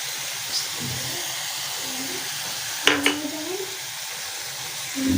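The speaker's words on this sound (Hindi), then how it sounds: "ये भी साथ ही फ्राई कर लेते हैं।" Chopped onion, tomato, capsicum, cabbage and green onion fry in a pan, a steady close sizzle with a sharp stirring clatter near the middle and brief bumps of handling.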